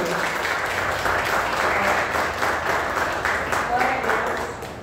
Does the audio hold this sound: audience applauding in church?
yes